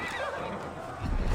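A horse in the video game Assassin's Creed Valhalla whinnies loudly and shrilly, followed by a burst of low rumbling noise near the end.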